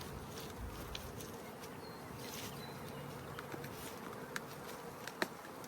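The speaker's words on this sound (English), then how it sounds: "These are nurse bees." Honey bees on a spring hive during an inspection and mite treatment make a continuous, quiet, close buzz, with a few soft clicks and knocks scattered through it.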